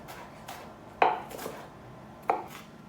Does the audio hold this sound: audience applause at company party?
no